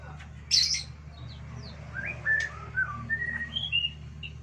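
A white-rumped shama calls with clear whistled notes and short chirps, fairly distant, over a steady low background hum.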